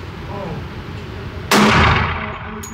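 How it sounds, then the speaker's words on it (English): A single sharp, loud gunshot from a Springfield XDM 10mm pistol firing 180-grain rounds at a seven-yard range, cracking suddenly after a short stretch of low background rumble and ringing off briefly. "15 rounds of 10mm. First shots."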